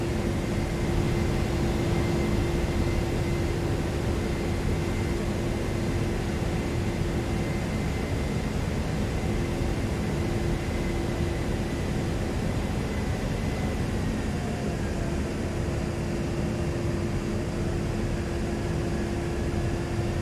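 A simulated A-10C jet aircraft cruises steadily on approach toward Batumi Air Base in DCS World, a continuous loud engine drone with a sustained whine, holding level at about 200 knots with no talk over it.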